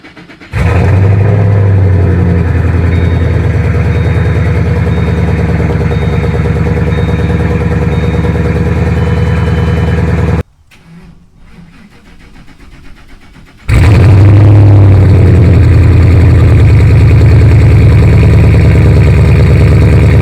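A Ford Mustang GT with an exhaust leak cranks and fires up, then settles into a loud, steady, rumbling idle close by; it cuts out briefly, restarts and idles heavily again, with no talking.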